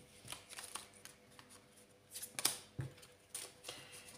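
Oracle cards being shuffled by hand, a quiet series of soft riffling flicks and papery slaps with brief pauses, close and faint.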